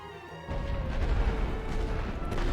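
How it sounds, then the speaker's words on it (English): Artillery barrage in the WWI strategy game The Great War: Western Front, a sudden rumbling burst of deep booms and crashes rolling on continuously after a quiet start. "They are dropping artillery on us."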